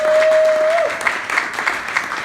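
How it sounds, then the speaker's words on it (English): A debate audience breaks into applause, a dense patter of clapping that swells and holds for a couple of seconds, following a brief steady tone at the start. "Let's give them a big round of applause."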